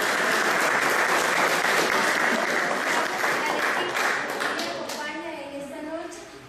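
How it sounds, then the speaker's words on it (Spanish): Audience applause at an election forum on government plans, a dense steady clapping from a crowd that fades toward the end as a voice begins speaking. "Un aplauso para ellos."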